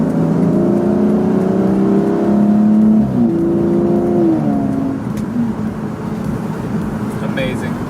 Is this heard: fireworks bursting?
no